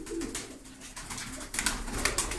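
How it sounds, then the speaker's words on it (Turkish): Kumye pigeons kept as Turkish tumbler pigeons coo softly at close range, with a low murmur over faint background rustling and muffled noise. "Şurada bir takım kumye kuşumuz var."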